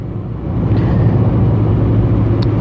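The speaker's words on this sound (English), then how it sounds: "a car." A car passes on a country road in scenic rural Iceland, heard from inside another moving vehicle; a steady low road rumble swells slightly as it goes by, with no talking.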